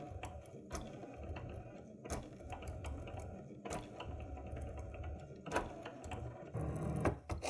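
A Cricut cutting machine with a fine point blade starting a cut, giving a close, steady mechanical whir with a rapid ratcheting texture and repeated sharp clicks as the carriage moves.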